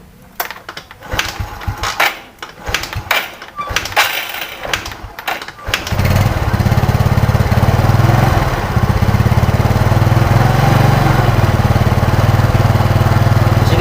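Yamaha Mio Sporty carburetor scooter engine starting after several rattling clicks and handling noises, then settling into a loud, steady close-up running drone.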